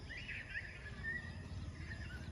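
Small birds chirp and twitter faintly in the distance over a low, steady outdoor rumble, with no talking.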